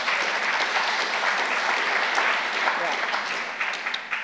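Audience applause in a lecture hall at a dialogue event, a dense, steady wash of many hands clapping for the full stretch, loud and continuous before tapering slightly at the end.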